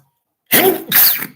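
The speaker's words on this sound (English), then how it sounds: "I sit here and I sneeze." A single sharp, loud sneeze from a man sitting indoors, bursting out after a moment of silence in two quick explosive bursts.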